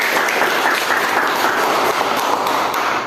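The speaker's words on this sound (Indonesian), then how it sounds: "Oke, tepuk tangan lagi nak." Students in a classroom clap after a group presentation, a steady, dense patter of applause filling the whole stretch without pause.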